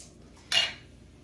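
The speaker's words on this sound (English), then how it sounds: "You can just put it underneath your lid here and open up my home canned jar" A jar opener pries the lid of a home-canned jar, giving a single short metallic pop or hiss of release, close and brief, in a quiet kitchen.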